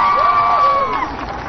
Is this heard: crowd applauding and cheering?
yes